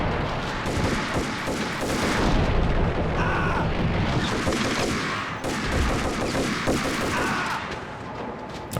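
Gunfire and grenade blasts in the 2001 PC game Max Payne, dense bursts of shots and booming explosions that fill the whole stretch loudly with little pause.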